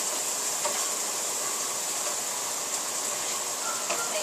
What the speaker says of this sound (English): we've sauteed the onions and the shallots and the garlic